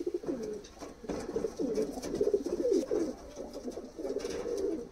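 Pigeons coo in a steady series of soft, throaty calls, fairly close and continuous, with faint background noise and no talking.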